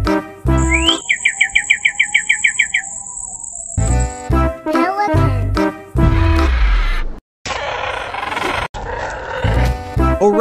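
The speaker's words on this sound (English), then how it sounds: "Quail." A quail calls loudly and close, with a quick run of repeated bright chirps followed by sharper, harsher call notes.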